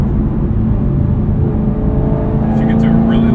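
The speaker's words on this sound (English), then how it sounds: "That bark at low revs." A modified 2022 Camaro SS 1LE V8 rumbles at low revs with a deep, steady exhaust drone close by, a brief bark rising near the end as someone speaks over it.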